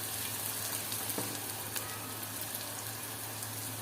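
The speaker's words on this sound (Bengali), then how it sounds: "এখন এটা আবার খুব ভালো করে ভেজে নেব।" Ginger, garlic and ground spices fry in a pan with a steady, soft, even sizzling hiss over a low electrical hum, with no voices.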